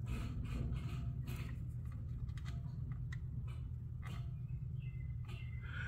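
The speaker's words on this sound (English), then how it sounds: "you guys can hear the relay triggering in the background, but the pump isn't turning on" A car's fuel pump relay being triggered by hand, heard as faint, irregular clicks and ticks under a steady low hum, while the low-pressure fuel pump stays silent.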